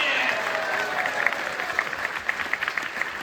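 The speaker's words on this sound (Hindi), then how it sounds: "तालियां बजाइए।" An audience at a devotional Bhagavad Gita gathering breaks into applause. A thick wash of clapping at first gives way to sharper, more separate claps toward the end.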